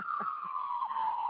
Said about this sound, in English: I get sirens going off outside.